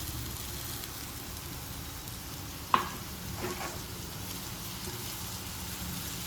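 Onions and tomatoes sizzle and fry steadily in a pan with ginger-chili paste, a soft continuous crackle with one sharp clink of a utensil partway through.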